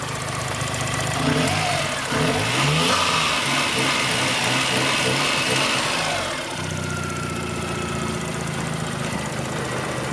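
A 1992 Suzuki Cappuccino's engine runs steadily up close, rising into a revving burst for a few seconds before settling back to a smooth, even drone.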